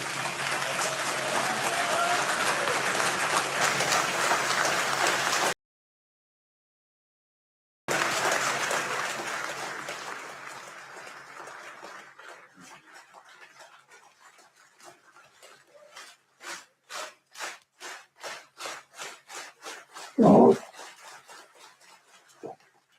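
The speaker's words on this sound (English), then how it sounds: "Why is that group clapping?" A group of people clapping in a parliament chamber: dense applause, then a short silence, more applause, then separate rhythmic claps in a steady beat that fade toward the end.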